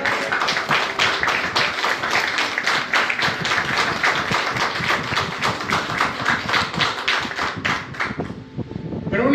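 Rhythmic unison clapping from a church congregation applauding the Lord, steady quick beats repeating for several seconds before tapering off, with a voice heard faintly alongside.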